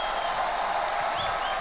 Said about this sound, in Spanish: Un fuerte aplauso, sí, señores.